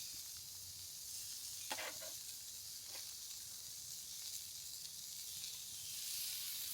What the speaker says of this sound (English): now that everything's ready, I just grill the peppers